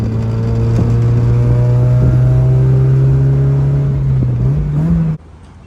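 A Mazda Miata engine idles steadily and close by with a strong, even hum, rising briefly in a light rev near the end before cutting off abruptly.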